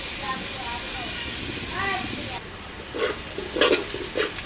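Onions fry in a pan, a soft sizzle running under a speaking voice, followed by a few louder stirring scrapes near the end.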